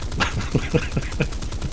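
Tail gunners of a Dornier 217 in the War Thunder aircraft combat game firing short, separate bursts, about five distinct reports spaced under a second apart over a steady engine hum.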